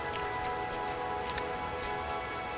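Rain falls in an animated film, a steady close patter of drops with light ticking hits and a constant hiss throughout, with no voices.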